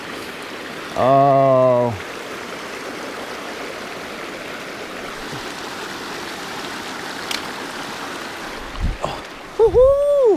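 East Fork Blacktail Creek flows in a forest, a steady, close rushing babble that runs the whole time, with a brief spoken exclamation near the start and short voice sounds near the end.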